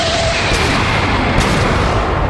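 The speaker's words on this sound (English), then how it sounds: "Ichigo's Bankai from Bleach, where he powers up and does this beam thing" Sustained roaring energy blast of Ichigo's Bankai beam attack in modded Overwatch 2, a dense, loud, continuous rushing burst with no gaps.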